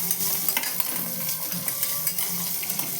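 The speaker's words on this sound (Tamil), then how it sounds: "இந்த சூடு இருக்கும்போதே நம்ம காஞ்சி திராட்சை சேர்த்து வறுத்துக்கணுங்க." Steady crackling sizzle of raisins frying in a hot pan, with occasional light stirring clinks, continuous and close throughout.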